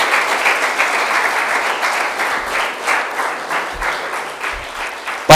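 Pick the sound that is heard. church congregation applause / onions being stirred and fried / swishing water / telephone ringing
church congregation applause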